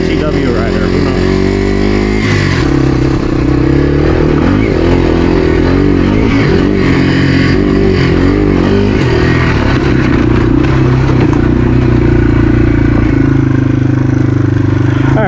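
A Yamaha TW200 motorcycle engine droning loud and steady on a ride, with wind buffeting and rattles throughout while someone talks over it.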